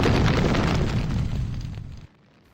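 Loud, broad roaring blast of an ignited gas cloud that starts at full force, then rumbles and fades over about two seconds before cutting off into quiet.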